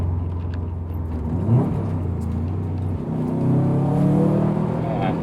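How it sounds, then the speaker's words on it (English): A 2008 Subaru WRX STI engine rises from idle as the car accelerates, a loud steady interior drone climbing in pitch with a brief surge mid-way and a stronger pull toward the end. "So what happens if I step on the gas now?"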